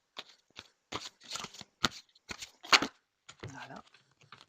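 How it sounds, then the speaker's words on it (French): A deck of tarot cards is shuffled and drawn, giving crisp, close riffling bursts and soft flicks in an uneven rhythm. A brief murmur of voice comes near the end. "Je vais tirer 3 cartes."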